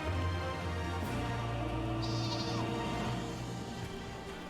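Sheep bleating in the video game Final Fantasy XIV, a few distinct bleats over a steady low in-game ambient hum, faint and with no talking.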